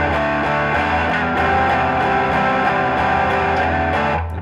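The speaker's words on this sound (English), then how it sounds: "usually when people first learn their power chords, you get a lot of extra strings ringing out" Distorted electric guitar power chords with extra strings ringing out, a dense sustained buzzy wash with rhythmic strums, loud and close without talk, cutting off at the end.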